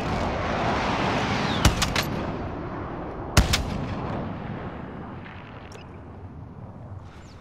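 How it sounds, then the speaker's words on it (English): Two heavy precision airstrike explosions from a video game shooter, sharp booming blasts about two seconds apart over a dense roar of battlefield noise and distant gunfire that slowly fades. "Be advised, friendly precision airstrike inbound."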